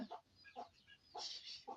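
Chicken clucking in short repeated bursts, with a few higher squawks, fairly faint and spaced out.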